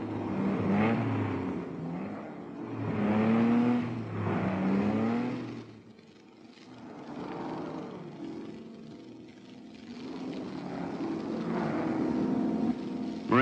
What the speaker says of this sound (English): Moretz tries to pass Bianchi, who's driving in top form